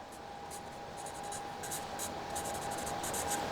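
A pen or marker scratches out a label on a piece of wood in a quiet workshop, with short, soft strokes over a faint steady hum.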